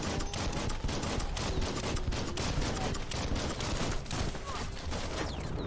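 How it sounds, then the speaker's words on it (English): Electric gun firing in the action game Biomutant, a continuous rapid crackling barrage of shots with dense sustained noise, loud and unbroken across the whole stretch. "I'm shooting you up. Oh, that electric gun is amazing."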